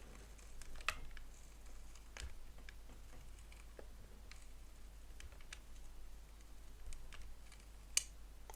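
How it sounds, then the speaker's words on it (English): Faint, sparse clicks as a screwdriver turns the wheel of a ROKR cuckoo clock, soft irregular ticks spread over quiet background hum, one slightly sharper click near the end. "That is a very gentle, faint click."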